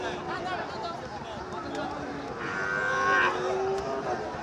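A Sahiwal cow lets out a drawn-out moo over a busy background of people talking nearby at a cattle market.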